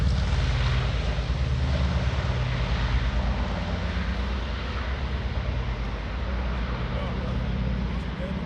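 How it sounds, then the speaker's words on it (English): B-29 Superfortress piston engines roaring at max takeoff power, a dense, continuous loud drone with propeller throb that holds steady throughout, with voices faintly underneath. "I love the sound of those engines."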